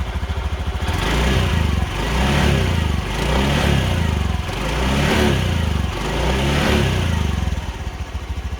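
A nearby car engine revs up and eases back several times, rising and falling in repeated surges over a steady idle.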